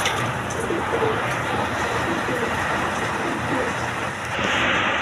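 Pigeons cooing at a Bangladeshi pigeon market where Rajgolla and other breeds are sold, a steady dense murmur of birds and crowd noise with low coos running throughout.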